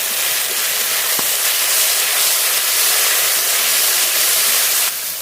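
Ground spice paste of ginger, coriander, cumin, dried chili and garlic sizzles in a pan after a splash of water, making a steady loud hiss that runs unbroken and eases off slightly at the very end.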